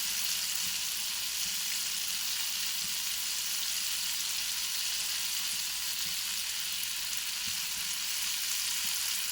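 Boondi batter droplets frying in hot oil for motichoor laddu, a dense, even sizzle that hisses continuously without pause, close and steady, with no voices.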